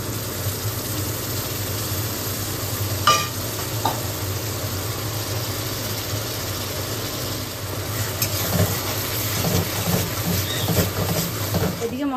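Egg masala of ginger, garlic, tomato paste and ground chilli, turmeric, cumin and coriander frying in a pan, a steady low sizzle with occasional stirring scrapes, close and continuous, with faint background noise.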